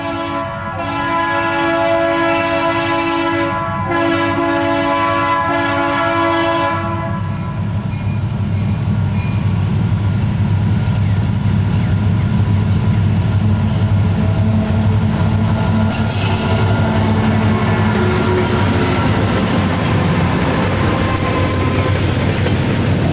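A Conrail freight train on the main line sounds a long, loud horn blast that ends after several seconds, then its cars roll past with a steady, heavy rumble and rail noise.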